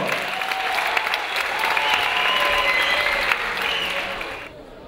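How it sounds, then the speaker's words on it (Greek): Seminar audience giving a big round of applause for a robotics expert, sustained dense clapping at a strong, even level that fades and cuts off near the end. "Ένα μεγάλο χειροκρότημα για τον Βασίλη Κριτσαντακόπουλο."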